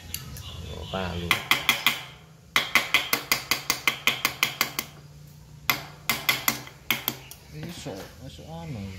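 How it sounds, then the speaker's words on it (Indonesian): Repair work on a Maspion electric fan, with a hammer striking metal in quick, sharp, ringing bursts and short pauses between runs. The blows are close and loud, with a little talk in between. "Palu."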